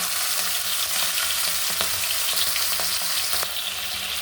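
Cut prawns frying in hot oil in a wok, with a dense continuous sizzle and light stirring clicks, close and loud throughout with no talk.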